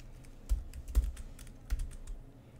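Computer keyboard keys are tapped in short irregular bursts, a few sharper presses standing out against a quiet room, with no one speaking.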